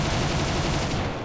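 Aircraft machine guns fire in a flight combat video game, a dense, continuous loud burst of rapid gunfire lasting just over a second with no pauses.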